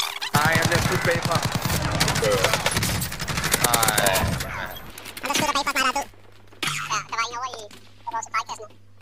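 Rapid bursts of automatic gunfire in the video game Warzone crackle hard and fast, then thin into scattered shots, with someone talking in Danish over the shooting.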